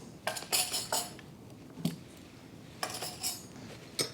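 Forks, spoons and knives handled together, a few short clinks and clatters of silverware in bursts with quiet gaps between, fairly close and soft, no voices.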